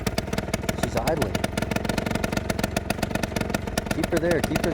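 An Adly scooter engine idles with a fast, even putter throughout. Voices talk over it, close to the machine.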